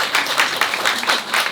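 Conference audience at the Level Up event applauding, a dense burst of many hands clapping in a hall, loud and sustained for a moment without talk over it.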